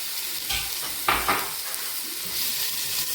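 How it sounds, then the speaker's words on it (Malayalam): Curry leaves hit a hot pan of fish curry and sizzle, with a few short bursts of crackle over a soft steady frying hiss. "ഇതിലേക്ക് നമ്മൾ കുറച്ച് കറിവേപ്പില ഇട്ട് കൊടുക്കുന്നു."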